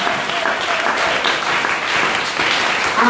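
A church congregation applauds to acclaim Jesus, a dense, steady wash of many hands clapping together for the full stretch without a break.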